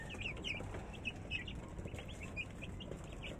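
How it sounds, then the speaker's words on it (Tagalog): Black ducks being fed chatter and quack in quick, clustered bursts, fairly faint over a rough, noisy outdoor background. "Itong kulay itim na yan ay mga itik po yan."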